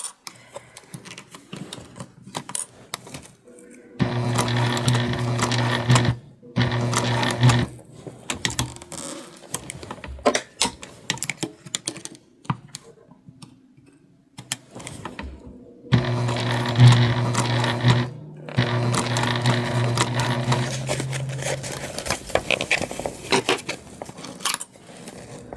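Sewing machine stitching slowly through bulky side seams of a garment at the connector points, running in two long bursts with pauses between, steady mechanical rattle close up.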